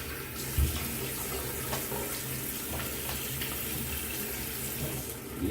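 Cold water running from a tap in Singapore while rinsing after a shave, a steady hissing splash that flows continuously with small spatters, moderately loud and without talk.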